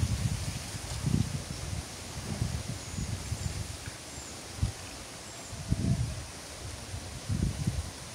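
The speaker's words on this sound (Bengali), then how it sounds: "হিউজ পরিমাণে বাতাস।" Strong gusts of wind rustle through leaves outdoors in bursts, several swelling whooshes rising and fading over a low, steady background, fairly faint and with no talking.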